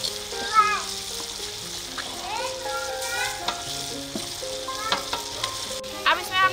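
Boiled pasta tipped into a frying pan of softened tomato sizzles and crackles steadily as it is stirred. Voices, including a child's, are faint in the background.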